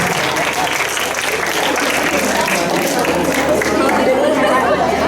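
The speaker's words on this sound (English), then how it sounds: "Can we give a big round of applause to Lucas?" Steady, loud applause from a crowd at a school science quiz, continuous throughout, with clapping blended with cheering and chatter.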